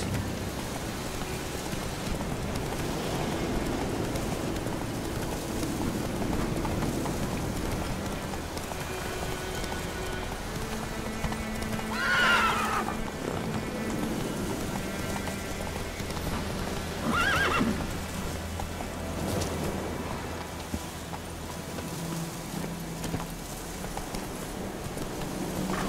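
Roach, a horse in The Witcher 3, gallops through rain with steady, rhythmic clip-clop hoofbeats and occasional whinnies, over a constant patter of rainfall.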